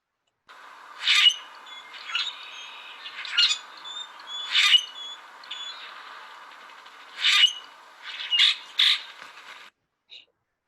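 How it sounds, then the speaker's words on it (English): A bird gives a series of harsh, grating squawks like a rusty gate swinging, several loud bursts in uneven groups with short gaps, clear against a silent background. "their call is this interesting squawk that they do. It's been described as a rusty gate closing and opening"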